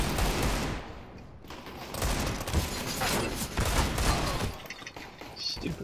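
Pistol gunfire in the game CS:GO, several sharp bursts spread across a few seconds, loud and close, mixed with game noise.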